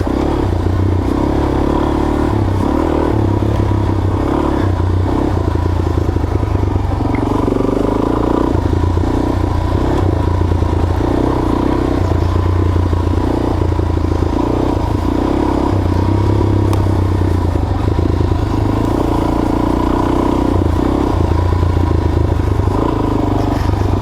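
A Suzuki DRZ 400 dual sport motorcycle climbs an Idaho single-track trail in first gear, its engine droning loudly and continuously, with rising and falling revs and steady clatter from the rough ground.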